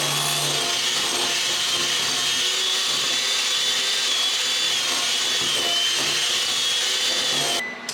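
An electric mixer creams light brown sugar in a bowl, a steady high motor whine with a grinding, scraping texture that runs unbroken for several seconds and then stops.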